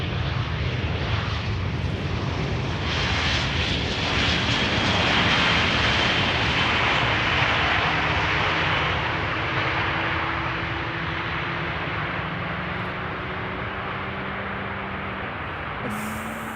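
Lufthansa airliner in Star Alliance livery on flight 988 from Frankfurt, arriving at Amsterdam Schiphol: a steady, loud broadband jet roar that swells and then slowly fades, with a low engine drone beneath and no talk.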